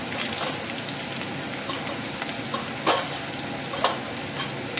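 Whole spices such as cinnamon, star anise and cardamom frying in hot oil with onion and green chilies for a potato and pea curry, giving a dense continuous sizzle with a few sharper crackles and stirring scrapes, close and without talk.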